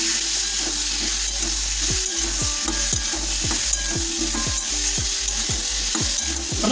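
Spices with turmeric powder and chopped green chilli fry steadily in oil in a pan, a constant loud sizzle broken by regular scraping strokes of a spatula stirring the mixture, with no talking.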